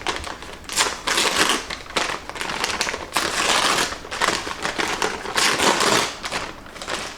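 Loud, close crinkling and tearing of a bag wrapper as its sides are ripped open, a continuous rustling crackle that swells in bursts, with no talking.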